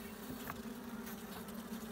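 Honeybees buzz around a hive in a steady, faint, continuous hum of many wings, with a few individual bees passing close for a moment.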